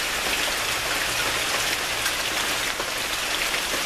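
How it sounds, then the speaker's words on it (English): Steady rain falls and patters on surfaces outdoors, a dense, even hiss of drops close by that holds without pause and with no talk over it. "There comes a little bit of rain."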